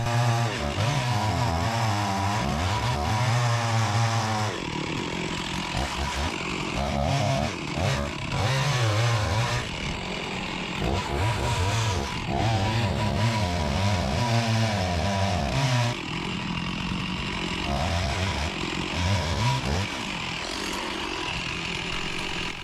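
A chainsaw cuts into a huge ash tree, with a wedge driven in to keep the kerf open: loud, close engine snarl that rises and falls as the throttle revs and the chain bites, continuing throughout with no voices.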